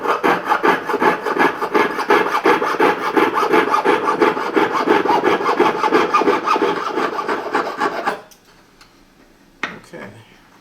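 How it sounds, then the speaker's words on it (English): A file is pushed back and forth across a soft silver earring in fast, even rasping strokes for about eight seconds, loud and close, then stops, leaving near silence and one small clink. "This is almost like a wood file, but silver is pretty soft and it cuts"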